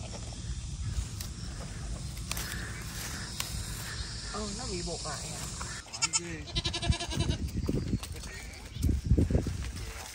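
Goat bleating on a tea-hill farm in Moc Chau, Vietnam, with wavering cries toward the end amid background chatter and outdoor noise; people talk nearby throughout.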